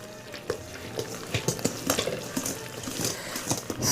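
Puff-puff batter being mixed in a bowl, irregular wet slaps and utensil scrapes and taps in a close, fairly quiet kitchen, no talking.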